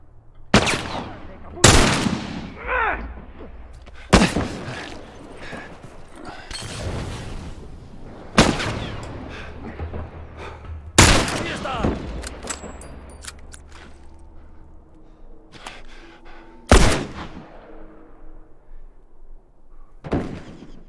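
Gunfire in The Last of Us, sharp single shots spaced irregularly over the scene, loud and close, with echoing tails and faint game ambience between them.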